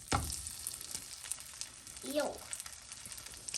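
French toast sizzles and crackles in a hot pan, a steady close frying hiss with a short vocal exclamation partway through.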